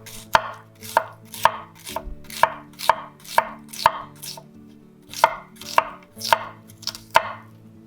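A knife chops a small onion on a cutting board for an Armenian salad: about fourteen crisp, close chops in a fairly regular rhythm with short pauses, and no talking.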